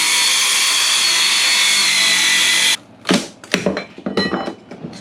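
A power saw cuts through a wall during demolition, its loud, steady high-pitched whine running for nearly three seconds before stopping abruptly, followed by a few sharp knocks and rattles of debris.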